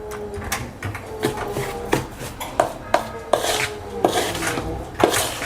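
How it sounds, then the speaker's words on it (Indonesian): Drilling noise coming from upstairs during home cooking, heard as a series of sharp, irregular knocks and rasping bursts over a steady background, moderately loud and close, with no talking. "suara ngebor gitu loh."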